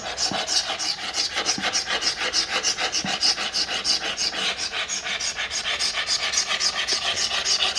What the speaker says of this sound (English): I'm going to take maybe like 100 grit by hand and just kind of rough it up